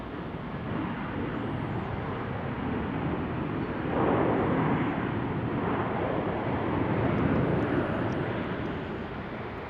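An inbound airliner from Atlanta landing at Salt Lake City airport, a broad continuous jet roar that swells in the middle and stays loud throughout, heard from nearby with no talk.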